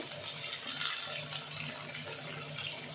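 Mustard seeds and cumin sizzle in hot oil, a steady close hiss and crackle with no voices.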